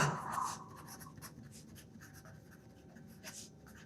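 A pen writes out a math solution on paper during a school lesson. Soft, scratchy strokes come in short irregular bursts, close and faint, with no talking.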